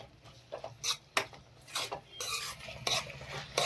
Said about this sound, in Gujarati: તો ટમેટા એકદમ સરસ મેસી મેસી થઈ જાય ત્યાં સુધી આપણે તેને શેકી લઈશું